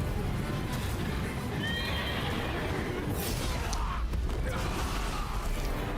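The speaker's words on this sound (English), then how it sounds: "We got a freaking horse." A horse neighs in the Nioh 3 demo game, a loud whinny with hoof clip-clop and a steady noisy backdrop.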